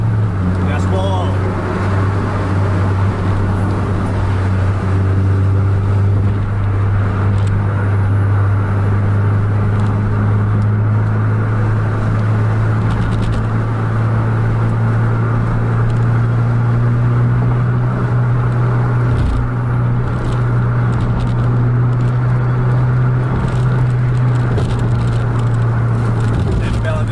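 Trucks on a road with the driver going at full throttle toward a bridge: a loud, steady low engine drone fills the whole stretch, with road rumble and wind noise from inside the cab.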